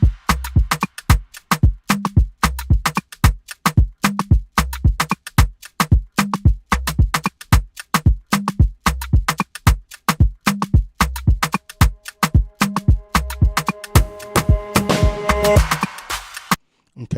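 An Afropop Highlife beat loop plays alone, with a steady, busy rhythm of crisp percussion hits over a recurring low thump, closing with a denser, washier swell near the end.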